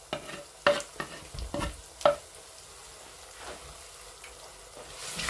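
Chopped pepper dropped into a pan with onions and thyme and frying, opening with a few sharp utensil knocks and stirring scrapes before settling into a soft, even sizzle.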